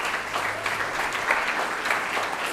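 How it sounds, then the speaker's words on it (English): An audience applauds at the close of a guest university lecture, a sustained wash of many hands clapping at moderate loudness with no break. "give a big applause for all of us."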